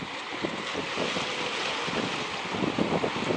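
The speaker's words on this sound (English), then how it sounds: "I hear a motor" Motor of an open runabout boat approaching across open water, a steady broadband drone blended with strong wind noise and waves, with no voices.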